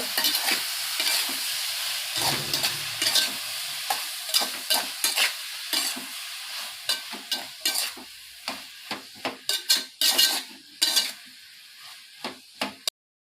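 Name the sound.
tomatoes stirred into fried onions in a pan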